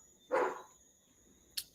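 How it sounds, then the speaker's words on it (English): A dog on a farm gives one clear bark at close range, followed after a pause by a short, sharp yip, with no talking. "You guys hear the dog in the background because we're on the farm"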